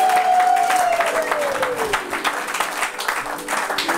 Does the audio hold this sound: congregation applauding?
yes